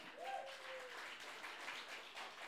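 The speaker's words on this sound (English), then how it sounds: "give her a round of applause" An audience applauds at a Texas gathering honoring Miss Monica Bracken, a steady, fairly faint wash of clapping throughout, with a brief vocal tone rising over it near the start.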